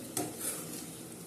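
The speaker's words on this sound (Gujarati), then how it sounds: "ઢોકળી થોડી તેલમાં સાંતળવાની છે." Dhokli dumplings sauté in hot oil in a pan, a soft steady sizzle that follows one quick scrape of a spoon against the pot, heard close up.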